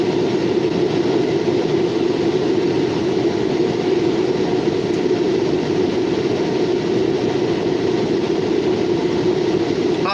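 A Norfolk Southern local freight train passes through New Castle, Pennsylvania, with a loud, continuous rumble and roar that stays steady throughout.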